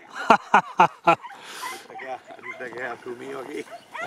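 Four sharp dog barks in quick succession during a rabbit hunt among tamarisks, then people talking excitedly in Spanish in the background while a dog whimpers faintly.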